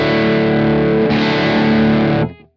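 Distorted electric guitar through a Kemper Profiler with EQ, low band cut by 1.5, played as a loud sustained chord ringing for about two seconds before fading out, alone with no talk.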